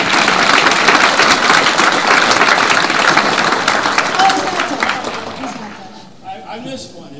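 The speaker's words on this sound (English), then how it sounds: "Can I clap now? You can clap." Audience at a music awards event breaks into loud, sustained applause that fills the room, thinning out and fading toward the end.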